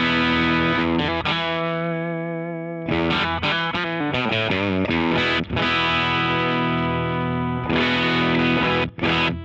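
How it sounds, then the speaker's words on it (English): Electric guitar through a Chase Bliss Clean pedal with overdrive: thick, sustained distorted chords ring loud and close, with a short gap, then more strummed chord changes and swelling sustained notes, no voices. "Okay, that's kind of a cool overdrive sound."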